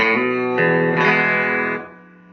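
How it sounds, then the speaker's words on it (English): A distorted electric guitar rings out a chord, then notes shift quickly as the fingers change, before the sound fades into sustain. "What you just heard was a pull off and a hammer on."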